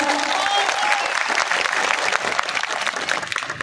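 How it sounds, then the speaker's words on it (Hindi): Crowd applause at a farmers' protest rally in Lavkushnagar, a steady burst of many hands clapping at moderate distance, sustained for several seconds. "तो एक बार मीडिया के नाम पे ताली ही बजा दो यार तुम लोग।"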